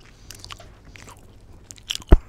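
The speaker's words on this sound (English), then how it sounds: "I'm chewing gum too, so if you hear that, like, munching, I'm chewing gum." Gum being chewed close to the microphone, soft irregular wet munching and smacking with a sharper crunch near the end, heard alone.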